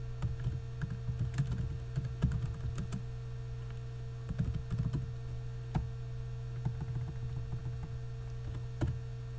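Typing on a computer keyboard while entering a title into a form: quick irregular bursts of close, soft key clicks over a steady electrical hum, with pauses between runs.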